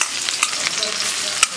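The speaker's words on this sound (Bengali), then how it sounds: "দিচ্ছি রসুন কুচি" Chopped garlic dropped into hot oil with bay leaves, dried chilli and cumin, a close bright sizzle with crackling pops and a couple of sharp utensil clicks, brief and without talk.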